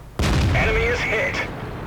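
Tank cannon fire in World of Tanks, one loud close boom with a sharp onset that rings on under a metallic tone before fading, while a voice talks over it.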